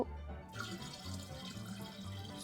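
Water is poured into a jar while kombucha is being made at home. A steady, close splashing stream starts abruptly and runs on, with a faint low hum underneath.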